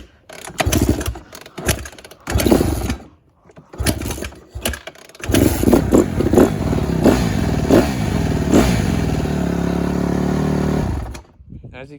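A Honda CRF150R dirt bike with a Keihin FCR carburettor is kicked over in short sputtering bursts, then catches and runs, its engine rising with several sharp throttle blips before settling into a steady loud idle, and a voice speaks briefly.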